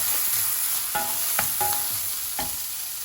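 Chopped garlic with green chili is stirred in a sizzling pan for a mushroom stew, a steady frying hiss overlaid by a handful of close, sharp utensil scrapes and knocks, with no voices.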